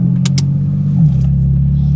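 A naturally aspirated Mercedes C63 AMG of about 500 horsepower drones with a deep, loud engine note that swells briefly around the one-second mark, with two short airy hisses early on.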